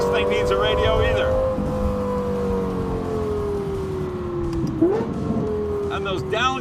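A Lexus LFA Spyder's engine sings at high revs and drops in pitch through downshifts, loud and close, with someone talking briefly at the start and end.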